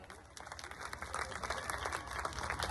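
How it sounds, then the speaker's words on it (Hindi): An audience at a school's annual function claps steadily, a moderate, continuous patter of many hands that swells slightly toward the end. "धन्यवाद, जोरदार ताली।"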